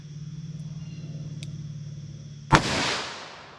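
A single loud .357 Magnum shot from a steel revolver firing Buffalo Bore Barnes ammunition cracks out after a steady low hum, followed by a short decaying boom.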